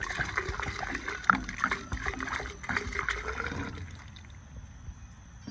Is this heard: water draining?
yes